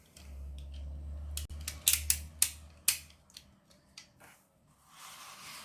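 A craft knife pierces paper during hand bookbinding, giving a run of sharp, close crisp punctures and snips in quick succession, followed by a quieter rustle and no talking.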